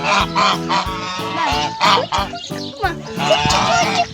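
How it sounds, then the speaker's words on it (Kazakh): Geese honk over and over in an animal-park setting, a loud, busy chorus of overlapping calls that runs without a break. "Аққу емес, қаз ғой бұлар"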